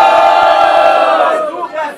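A packed rap-battle crowd roars and shouts in loud, dense unison for one of the MCs, a sustained wall of voices that swells and then tapers off near the end.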